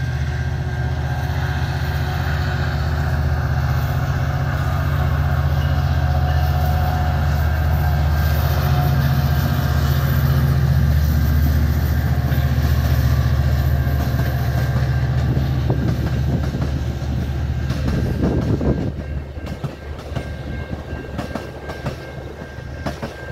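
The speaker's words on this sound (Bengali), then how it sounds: "এই যে ট্রেনটি আসছে," A local train rolls through a railroad crossing in Illinois, USA, its loud, close engine rumble and steady wheel clatter filling the scene before easing toward the end as the cars pass.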